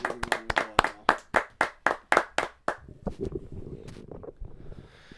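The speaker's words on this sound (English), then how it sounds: "Yeah, round of applause." A round of applause from a small group, with about a dozen sharp, evenly spaced claps that give way to looser, scattered clapping and fade out. No one speaks.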